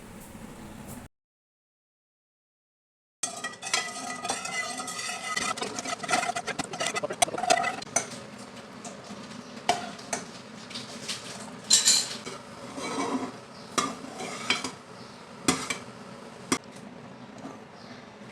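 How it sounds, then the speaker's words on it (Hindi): Pudding mix being stirred into half a litre of milk in a pan, close scraping and clinking of a spoon against the pan in irregular strokes after a brief silence, with no talking over it. "इसको मिक्स करेंगे।"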